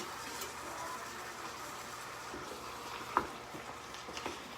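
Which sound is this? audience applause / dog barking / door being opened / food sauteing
food sauteing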